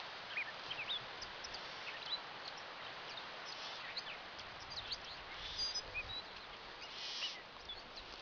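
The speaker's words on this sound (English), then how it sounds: "Don't know if you can hear the birds or not. They're making quite a racket over in the brush there." Birds chatter and call in outdoor brush, a busy scattering of short chirps and squawks over a soft, steady background hiss, fairly faint and distant, with no voices.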